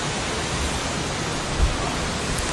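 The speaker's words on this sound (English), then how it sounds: "Do you hear the water?" Steady rushing water flowing inside Merlin's Cave, a dense, constant broadband wash without pauses or voices.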